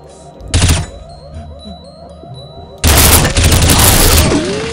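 Gunfire in the tactical shooter SWAT 4 starts with a short, loud burst. After a brief lull, a sustained barrage of rapid automatic shots erupts close by and keeps going to the end.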